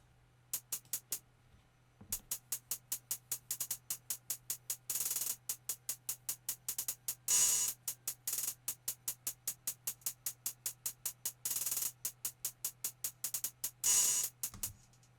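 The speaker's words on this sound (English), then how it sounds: "this is a standard hi-hat. This part here is a hi-hat roll. This part here is an open hat" Chopped hi-hat loop for a trap beat built in Ableton Live: rapid ticking hats with fast rolls and bursts of sustained open hats over a steady low hum, loud and close with no talk.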